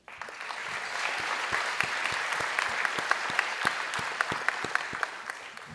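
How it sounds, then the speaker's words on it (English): An audience at a city State of the City event applauds a presenting sponsor, a dense, even patter of many hands clapping throughout at moderate distance. "please help me in acknowledging with a round of applause to our presenting sponsor"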